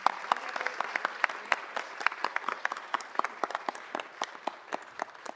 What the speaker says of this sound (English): Please join me in applauding the artwork